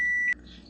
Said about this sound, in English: And that was the timer for the cakes, for the small cakes.